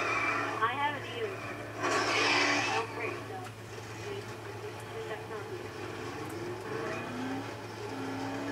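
A car engine hums and revs steadily while driving in the zombie video game Dead Island, with a brief louder burst partway through, running under casual talk from players.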